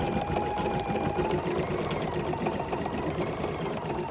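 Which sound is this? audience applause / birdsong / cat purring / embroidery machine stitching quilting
embroidery machine stitching quilting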